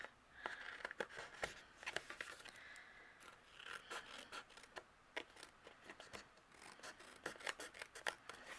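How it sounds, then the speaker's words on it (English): Scissors trim excess cardstock overhanging a handmade card base. The crisp snips come close together in a quick, irregular series, close but fairly quiet, with no talking. "I'm going to use my scissors"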